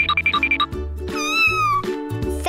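A toy-style cat sound effect plays a quick series of short high meows followed by a longer drawn-out meow, clear and close, alone without speech.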